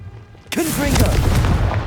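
A Confringo fire spell explodes in Hogwarts Legacy with a sudden loud boom. A whooshing, crackling burst with brief tonal swoops follows and stays strong to the end.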